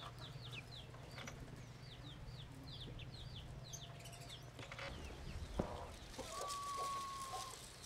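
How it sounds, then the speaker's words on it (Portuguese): On a rural Brazilian farm, hens cluck softly while a chick gives a run of high, repeated peeps, all fairly faint over a low outdoor background hum. "Olha lá, não, o pintinho já vem."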